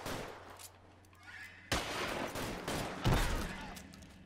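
Gunfire during a bank shootout in the video game L.A. Noire, sudden loud bursts of shots cutting in after a quieter stretch, with a heavy blast toward the end, no talk over it.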